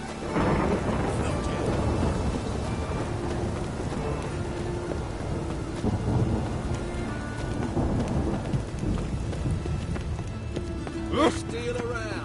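Rain and thunder in The Witcher 3 game world, heavy continuous rainfall with deep rumbling thunder, fairly loud, mixed with scattered game sounds and a short sharp burst toward the end.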